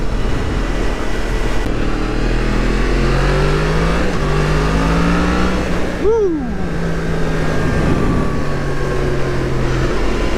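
Yamaha MT-10 motorcycle accelerating hard on a road with a quick shifter, its loud engine note climbing through quick, clipped gear changes, close and steady over wind noise.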